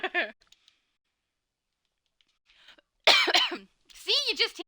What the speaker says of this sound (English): you'll definitely hear the cough either way